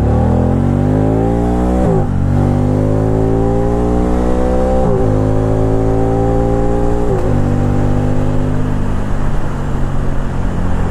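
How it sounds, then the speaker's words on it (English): 2012 Can-Am Spyder RT-S engine with an Akrapovic exhaust, loud and close, climbing steadily through the revs with three brief gear-shift breaks before easing off. "That Acropovic exhaust really gives it a nice sound to it."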